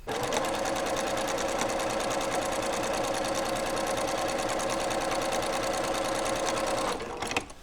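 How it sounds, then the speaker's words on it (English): A sewing machine stitching a half-square triangle quilt block, running steadily in one continuous, even, close-up whir of rapid needle strokes that stops abruptly near the end. "I'm going to actually sew just a thread's width to the center of the block"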